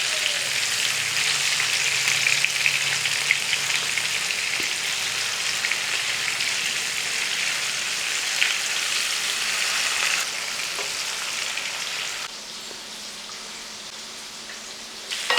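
Fish fries in a pan with a steady, bright, close sizzle that hisses on without pause, easing slightly softer near the end.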